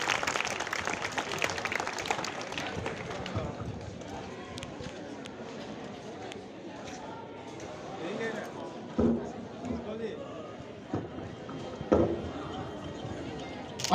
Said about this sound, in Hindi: जोरदार तालियों से स्वागत अभिनंदन हमारे इस ध्वज का।